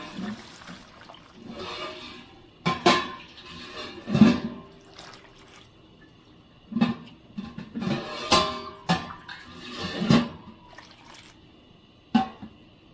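Hot water poured into a cooking pot of mata potatoes and shoil fish comes through as soft, intermittent splashing and gurgling in separate short bursts, with light knocks in between, fairly quiet and close.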